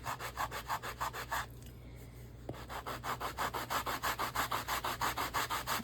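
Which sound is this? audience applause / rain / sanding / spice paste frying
sanding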